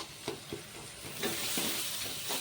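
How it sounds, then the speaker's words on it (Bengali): Spice masala frying in a pan sizzles steadily while a spoon stirs it in short scraping strokes, close and moderately loud, with no talking. "এখন ভালো করে মশলাটাকে ভেজে নিতে হবে"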